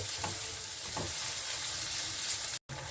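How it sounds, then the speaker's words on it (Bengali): Ground coriander and cumin sautéing in a pan for a Bengali papaya dish, giving a steady soft sizzle with a couple of faint stirring scrapes and a brief cut-out near the end. "এখন এটাকে আমি একটু কষিয়ে নেব"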